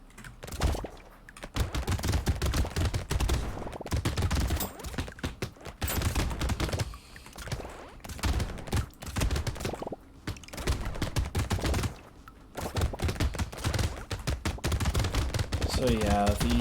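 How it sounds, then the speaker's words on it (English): Rapid submachine gun fire in the Brotato video game, dense and continuous bursts of clattering shots with only short gaps, loud throughout. "the SMGs are mainly for softening the enemies up and applying a little bit of knockback"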